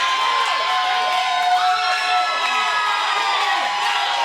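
A dense, continuous roar of cheering from a wrestling crowd in an arena, with high-pitched shouts and whoops riding on top, loud and sustained.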